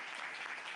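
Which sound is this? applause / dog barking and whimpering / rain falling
applause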